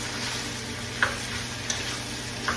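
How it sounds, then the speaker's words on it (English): Onions and pimentos tossed into a hot frying pan for salt fish with eggs sizzle steadily up close, with a few light clicks as they are stirred. "Start tossing and throwing in all of the onions, pimentos."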